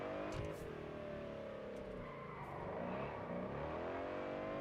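Car engine in the racing game Test Drive Unlimited Solar Crown, driven with a wheel, droning steadily with rising and falling revs throughout, loud and continuous with faint voice underneath.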